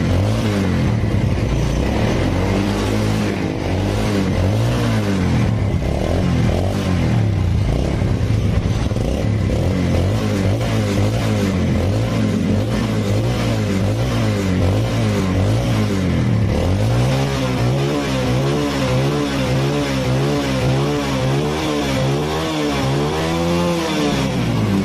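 A Yamaha Vega R motorcycle engine, smoking heavily, runs loud and close, its rough continuous drone rising and falling as the revs climb to high RPM, with no talk over it.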